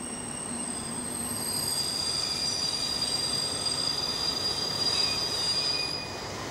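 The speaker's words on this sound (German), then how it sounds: "Wie zu alten Reichsbahnzeiten rollt 228 769 in den Bahnhof Ilmenau-Bad ein." A Reichsbahn class 228 diesel locomotive rolls into Ilmenau-Bad station with its carriages, a steady loud rumble of wheels on rails topped by sustained high-pitched wheel squeal throughout.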